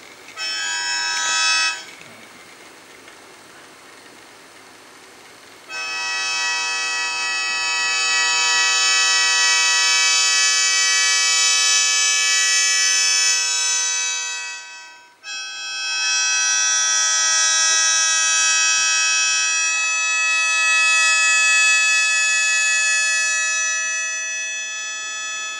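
Japanese shō mouth organ sounding classical aitake chords: dense, sustained cluster tones that swell in after a brief opening chord, hold steadily, dip for a breath and resume, with no talking.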